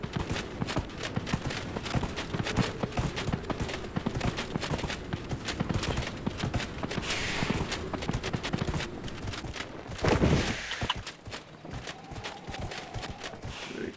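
Horse galloping across the Vast Desert in Dragon Age: Inquisition, a rapid, continuous run of hoofbeats, close and steady, with a brief louder burst partway through.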